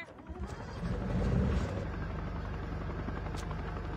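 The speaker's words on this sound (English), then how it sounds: "Chopper in the sky." Helicopter in the mobile shooter CoD Mobile flying overhead, a steady low rotor drone that swells slightly then holds constant with no talk over it.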